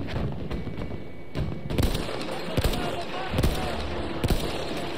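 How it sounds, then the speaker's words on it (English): Rifle shots ring out in Battlefield 1, several sharp bangs spaced through the stretch with some landing in quick pairs, loud and close over a dense battlefield ambience. "Firing 2 shots in quick succession."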